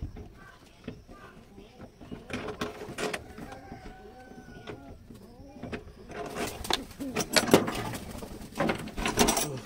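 A pigeon cage's side door is unlocked and swung open, giving close metallic clicks, rattles and clanks that grow busier toward the end, while pigeons coo softly nearby.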